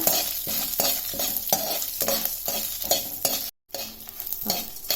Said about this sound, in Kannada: ಮೆಣಸು, ರೆಡ್ ಚಿಲ್ಲಿ, ಹಾಗೆ ಗ್ರೀನ್ ಚಿಲ್ಲಿ ಫ್ರೈ ಮಾಡ್ಕೊಳ್ಳೋಣ.